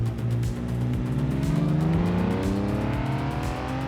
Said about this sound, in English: So first up, we're going to go for the classic Porsche 911 Turbo.